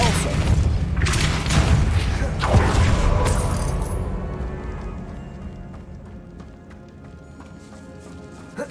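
A Depulso spell cast in the video game Hogwarts Legacy: a loud, dense burst of rumbling impact and whooshing energy that fades away over several seconds.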